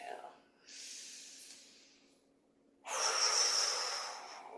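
Two slow breaths during a qi gong exercise: a soft, airy inhale followed by a stronger, louder exhale, close to the microphone and without any accompanying talk.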